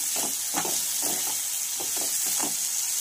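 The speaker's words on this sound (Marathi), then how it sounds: "आणि याच्यावर घालूया आपण थोडीशी कोथिंबीर आणि याला सुद्धा फ्राय करून घेऊया" Onion-tomato spice paste with coriander frying for toor dal, a steady hissing sizzle under repeated stirring strokes that scrape rhythmically about twice a second.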